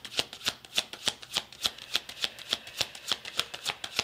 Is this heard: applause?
no